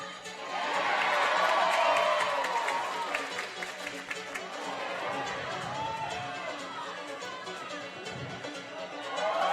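Crowd at the final round of the 2018 Sport & Speed Open National Championships climbing competition cheering and shouting to support a climber, a swelling roar early that settles into ongoing cheers under a commentator's voice.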